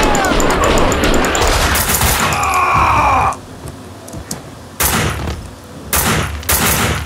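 Gunfire from the video game Max Payne 2, loud broadband bursts and crashes packed into the first three seconds, then a quieter lull and a few more sharp shots near the end.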